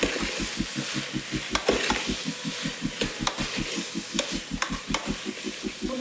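Chopped potatoes and two brinjals fry in a pan for a sambar, a steady close sizzle under an insistent regular pulsing hum, with a few sharp clicks of a spatula stirring against the pan.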